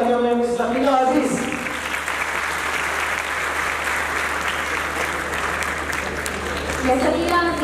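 Sustained audience applause at a student society oath taking ceremony, a loud, dense wash of clapping that carries on for several seconds, with a voice speaking over it at the start and again near the end.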